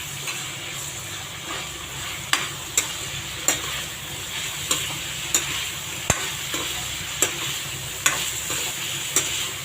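Brinjal and potato sizzle steadily as they sauté for a poriyal, with sharp spatula clicks and scrapes against the pan every second or so over a continuous frying hiss.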